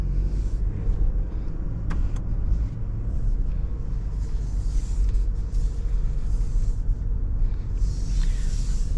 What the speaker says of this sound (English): let's go ahead and take this Mazda CX-5 on a drive